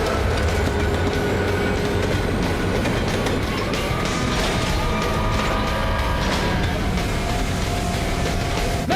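Rescue rail train from Power Rangers Lightspeed Rescue rolling along the track, a loud continuous rumble with clattering wheel clicks and metallic screeches, steady for several seconds.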